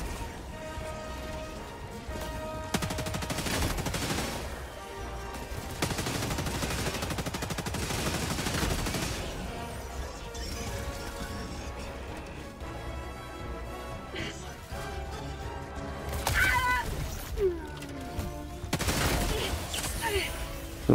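Enemy gunfire in Helldivers 2, bursts of rapid machine-gun fire and scattered shots rattle on and off for the whole stretch, loud and close, layered over game ambience with occasional sharper impacts near the end.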